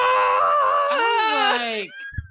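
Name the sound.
Howie scream film sound effect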